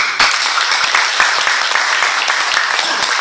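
A crowd applauding steadily, dense clapping filling the whole stretch at a loud, even level.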